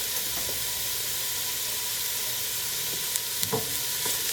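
Three chopped garlic cloves sizzle in a hot pan with a steady, soft hiss and an occasional clink of stirring, close and alone.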